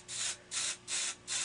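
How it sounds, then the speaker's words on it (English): Regular hold hairspray misted onto a spoolie brush in four short, soft hissing bursts at a steady rhythm, close up and alone. "Take out your regular hold hairspray and a spoolie brush"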